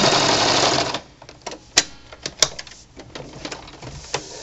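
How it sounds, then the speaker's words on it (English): Sewing machine back stitching over a seam on a pillowcase, a brief burst of fast stitching followed by quiet clicks and small mechanical taps, close and without speech. "we're going to back stitch just a little bit over it"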